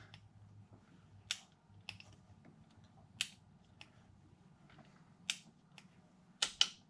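A torque wrench on an intake manifold nut of a 1997 engine gives sharp, isolated clicks, about six spread over several seconds, over a faint low hum in a quiet workshop.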